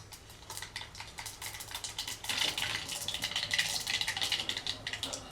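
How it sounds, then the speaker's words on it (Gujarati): Mustard seeds and cumin crackle in hot oil, tempering for Surti vatidal khaman: a dense, continuous run of sharp pops and sizzles that swells louder midway, with no voices. "રાઈ ફૂટવા લાગી છે"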